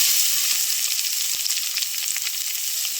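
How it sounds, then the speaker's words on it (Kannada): Onions sizzle steadily in a hot pan of oil with ginger, a dense, even frying hiss up close with a few soft spoon taps, cooking for a homemade bread recipe. "ಇದನ್ನೀಗ ಫ್ರೈ ಮಾಡ್ಕೊಳ್ಬೇಕು. ಇದಕ್ಕೀಗ ಈರುಳ್ಳಿ ಹಾಕ್ಕೊಳ್ತೇನೆ."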